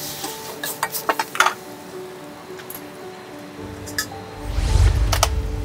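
Asian stir-fry vegetables tossed in a pan: a few light metallic clinks, then a louder rushing, rumbling toss as the vegetables slide and turn in the pan.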